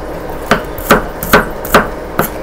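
Shallots are sliced thinly with a knife, five or six crisp, close chops in a steady, even rhythm, heard alone with no talk.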